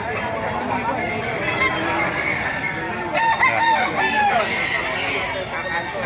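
A rooster crows nearby amid background chatter and clucking of other fowl, with people talking throughout at a market in Baliuag.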